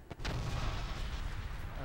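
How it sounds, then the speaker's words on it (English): A giant cannon blown up in World of Warcraft: Warlords of Draenor, a sharp blast followed by a sustained low, rumbling roar that fills the rest of the moment, loud and close. "Let's blow up this giant cannon."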